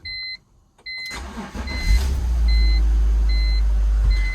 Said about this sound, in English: all there is left to do now is just start the car and see if anything changes